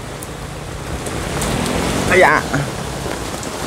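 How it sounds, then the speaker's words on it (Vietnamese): Heavy rain pouring steadily outdoors at a graveside, a constant dense hiss throughout, with someone speaking briefly over it. "trời mưa quá chừng luôn"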